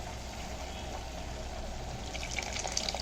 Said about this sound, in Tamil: இந்த ஸ்டேஜில் நம்ம கரைச்சி வச்சுருக்கிற புளியை சேர்த்துக்கலாம்